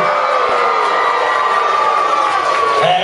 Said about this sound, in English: ladies and gentlemen, give a big round of applause